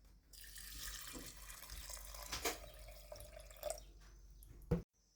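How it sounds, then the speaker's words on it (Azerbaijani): Water poured into a glass jar over spoonfuls of a dry ingredient, a steady splashing trickle with a few louder drips, ending abruptly in silence. "Və bura su əlavə edirik."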